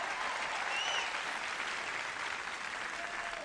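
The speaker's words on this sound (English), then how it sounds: "Give yourselves a round of applause." A live comedy-show audience applauds: a dense, steady roar of many hands clapping for the full length, loud and close, with no music or voices rising above it.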